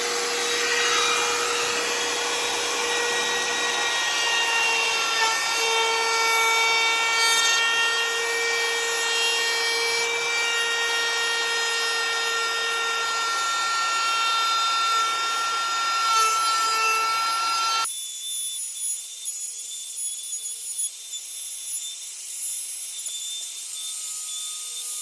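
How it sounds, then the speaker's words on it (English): Wood router plunged into a window sash to cut a hinge rebate, a loud steady high whine with a rasping cutting edge that drops abruptly to a quieter hum near the end; no talking. "Now we need to do is set the depth of the router to the thickness of that. And then we just plunge it in to there"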